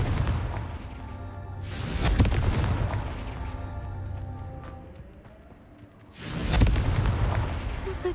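Confringo spell blasts in Hogwarts Legacy, a fiery game explosion with a booming burst near 2 s and another loud blast at about 6 s, over low rumbling game ambience.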